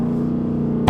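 A Dodge Charger R/T with a flame and burble tune idles with a steady low engine drone, then a sharp loud pop bursts out right at the end.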